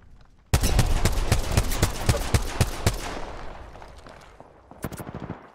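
Rapid burst of automatic gunfire in Apex Legends, a fast run of loud close shots for about two and a half seconds, then a decaying tail and a second short volley near the end.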